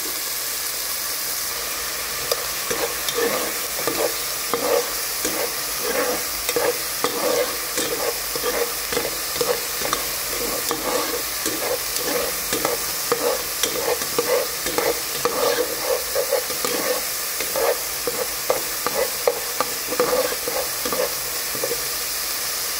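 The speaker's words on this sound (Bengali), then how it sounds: "এই স্টেজে আমি উপর থেকে কিছু জিঞ্জার গার্লিক পেস্ট ঢেলে নেব। আর সামান্য কিছু জল ঢেলে নেব।" Chopped onion, browned and now mixed with ginger garlic paste and a splash of water, frying for paneer tawa masala, with a steady sizzle and frequent rhythmic stirring scrapes that carry on throughout without talk.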